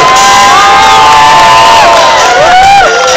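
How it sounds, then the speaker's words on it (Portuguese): A crowd at a rodeo festival opening in Nova Aparecida, Minas Gerais cheers and whoops loudly for a councilman, with sustained shouting and some children's voices filling the air throughout. "Recebendo com uma salva de palmas o nosso vereador Zé Arrojado."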